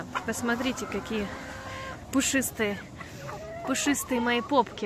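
Young silkie chickens, almost four months old, cluck softly and intermittently inside a small cage while someone talks close by.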